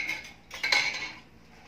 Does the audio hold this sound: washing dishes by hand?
yes